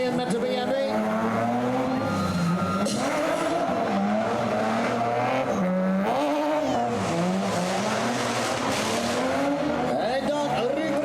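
A BMW rally car at a shakedown event, engine revving hard and continuously close by with shifting pitch and tire squeal, while a commentator talks over it throughout.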